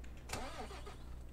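A Renault truck engine in Euro Truck Simulator 2, hauling a load of truck wheels, cranks briefly and catches, then settles into a low rumble. The start is quiet and short.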